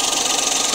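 A Suzuki Wagon R engine idles low with heavy vibration, a dense, steady, buzzing drone close by with a slight rhythmic flutter throughout, no talk.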